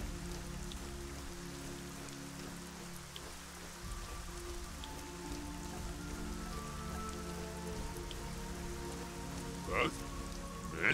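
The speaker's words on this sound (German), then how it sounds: "Es ist immer nur Regen." Rain falls continuously in the video game Gothic 4: ArcaniA, a soft steady patter with faint game ambience beneath and a few sharper sounds near the end.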